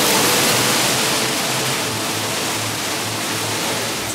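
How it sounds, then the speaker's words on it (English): A waterfall at an indoor-outdoor spot in Bangkok, a loud, steady, broad rush of falling water with no breaks and no voices. "A waterfall."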